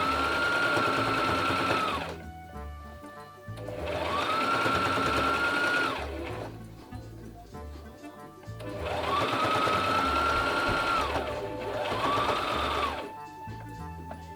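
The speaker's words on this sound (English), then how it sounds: "let's sew this on and see how it comes out" A sewing machine stitches a toile dress in bursts of about two seconds each, a steady close mechanical whirr that stops and restarts four times with quiet gaps between.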